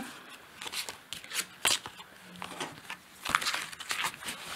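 Gaia dream tarot cards shuffled by hand, soft irregular riffling and slapping bursts, close and fairly quiet, with no one talking.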